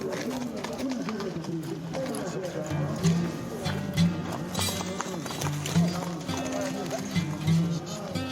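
Horses at a criolla rodeo in Uruguay, their hooves clopping in an uneven, running rhythm amid a steady outdoor bustle, with voices talking throughout and occasional louder hoof strikes standing out.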